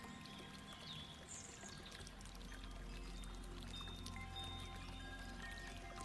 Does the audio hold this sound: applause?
no